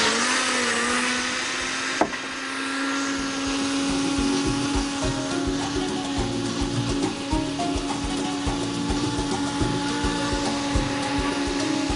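An electric blender whirs steadily, beating cake batter for oil-based petit fours, its motor hum holding constant and loud with a brief jolt near the start.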